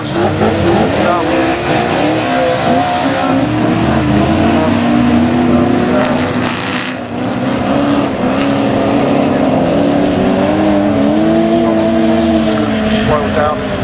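Autograss race cars cornering on a dirt track at Blyton Park, engines droning and revving loudly and continuously as they work around the bend, with a commentator talking over the noise throughout.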